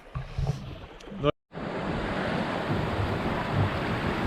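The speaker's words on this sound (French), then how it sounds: "Il y a 17-20 nœuds de vent." Strong wind of 17 to 20 knots roars steadily over open sea with a broad rushing hiss, after a brief moment of handling noise and a short dropout.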